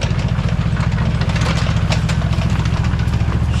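Megatron's engine roars loud and close at full throttle, a dense, steady drone with a strong low rumble and no pause, and no voices.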